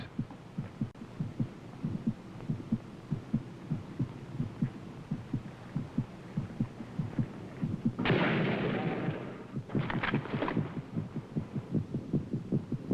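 A heartbeat in a Vietnam War helicopter evacuation film keeps a steady, regular thump of deep double pulses throughout. A burst of harsh noise cuts across it midway, and a few short crackles follow.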